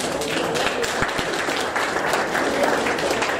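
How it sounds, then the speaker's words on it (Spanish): An audience applauds a speaker at a public gathering in Peru: dense, continuous clapping from many hands, loud and even throughout. "Ah, un aplauso para Humberto Sánchez."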